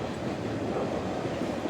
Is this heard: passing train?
yes